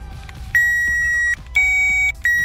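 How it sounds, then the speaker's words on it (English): A power tester plugged into the cigarette lighter of a Ford Explorer gives a steady electronic beep, sounded three times in quick succession with short gaps, close and clear with no voices. "You guys hear a beep?"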